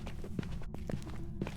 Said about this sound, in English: I can tell because I can hear those footsteps more here.